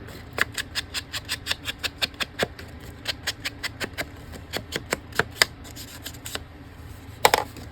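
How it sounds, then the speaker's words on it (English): Scissors snip through inked paper to cut a tag shape, giving a quick rhythmic series of close, crisp cuts with a brief cluster of rustling snips at the end. "Actually, I might cut this into a tag shape."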